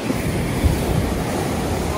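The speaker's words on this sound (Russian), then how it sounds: "Волна, конечно, нехилая." Rough sea surf breaking on a pebble beach at a Russian resort hotel, a steady churning wash of waves with gusts of wind noise buffeting the microphone throughout.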